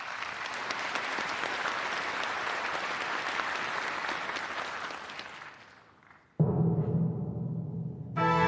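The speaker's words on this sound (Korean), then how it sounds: "여러분 박수로 맞이해 주시기 바랍니다." Sustained applause from a large audience at a March 1st Independence Movement Day ceremony in Korea for several seconds, fading out before music begins.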